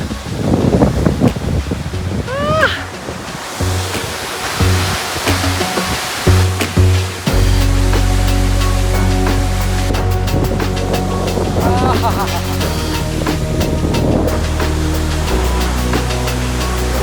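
Vasudhara Waterfall near Mana village rushes with a loud, continuous roar of falling water, while voices talk and exclaim over it in the first part.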